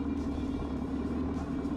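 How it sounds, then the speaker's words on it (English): A small car moves close by in traffic during a Caribbean motorcycle ride, its steady engine rumble blending with continuous road and wind noise at a constant loud level. "This is a small car."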